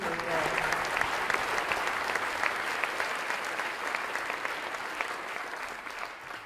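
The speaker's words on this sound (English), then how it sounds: "I'd like to give a round of applause to our panelists here." A dense, sustained round of audience applause for panelists at a tech event, many hands clapping steadily at close range and tapering slightly toward the end.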